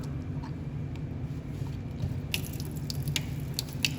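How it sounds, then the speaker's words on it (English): Cold tap water runs steadily over solid glue in a beaker, a continuous close splashing rush with a few sharper drips and spatters toward the end. "let's take our glue and we'll run it under cold water."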